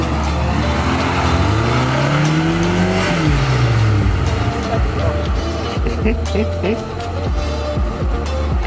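A Lada Niva off-road car engine, on 31-inch tires with a rear locker, revs hard off-road, pitch climbing then dropping, loud and close, with voices talking over the roar.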